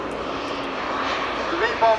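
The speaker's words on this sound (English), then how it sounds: "big gas turbines, and what a spectacular flight this is of two of the three V-bombers" Large-scale model Vulcan and Victor V-bombers, jet models of over 100 kilograms powered by big gas turbines, fly at an airshow, giving a steady roaring turbine drone with a rising whine near the end and a commentator speaking over it.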